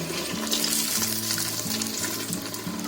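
Medu vada sizzle and bubble steadily in hot oil in a wide kadhai, with a constant close frying hiss and no talk.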